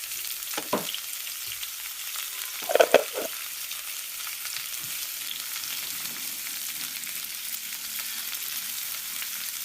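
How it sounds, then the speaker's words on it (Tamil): Mustard, fenugreek and cumin seeds hit hot oil and give a faint, steady sizzle, with a few brief crackles and pops early on. The sizzle then settles into an even, low frying hiss. "நல்லா சூடாகிட்டு இதில் கடுகு வெந்தயம் சீரகம்"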